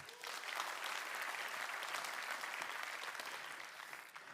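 An audience at a lightning talks event applauds a speaker, a broad even patter of many hands that swells quickly, holds steady, then gradually tapers off, heard from a moderate distance.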